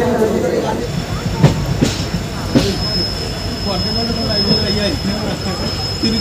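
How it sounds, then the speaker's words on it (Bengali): A passenger train pulls out of Kharagpur Junction toward Balasore, with a loud, close rumble of wheels and carriages, metallic squeals and a few sharp clacks over a continuous roar. "খড়গপুর রেলওয়ে স্টেশনে 10 মিনিট অপেক্ষা করার পর আমাদের ট্রেন ফাইনালি ছেড়ে দিল বালেশ্বরের উদ্দেশ্যে"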